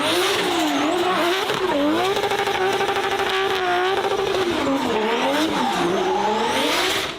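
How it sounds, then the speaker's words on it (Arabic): Cars drifting at a hypercar gathering, engines revving hard while tyres screech in long wavering squeals, loud and close throughout with no talking. "الايفنت بيحصل فيه عروض دريفت بنسخ دمار حرفيا"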